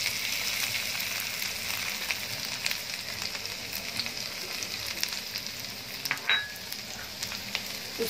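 Garlic frying in a small amount of oil in a wok for chilli, a steady close crackling sizzle that runs throughout with a few brief sharper pops near the end.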